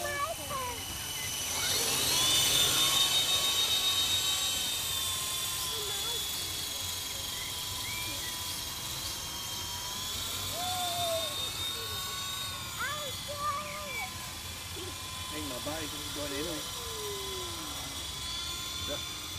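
A radio-controlled model helicopter flies with a steady high-pitched rotor and motor whine that rises and shifts in pitch as it manoeuvres, continuous throughout over background noise, with people talking nearby.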